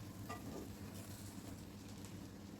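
Grated potato fries in a pan with a soft, steady sizzle and faint crackling, quiet and continuous with no one talking.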